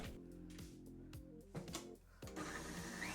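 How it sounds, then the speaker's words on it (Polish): Egg whites whipped in a bowl with an electric mixer, a steady loud motor whine that shifts pitch as the beaters move, with brief bumps and a louder stretch near the end. "Białka przekładamy do miski i ubijamy."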